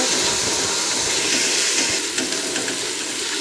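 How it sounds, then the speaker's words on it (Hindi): Onion, garlic and green chilli sizzling in a hot pan, a continuous hissing fry with faint stirring clicks, close and even throughout. "प्याज डाला, लहसुन और सब्ज़ मिर्च डाली है"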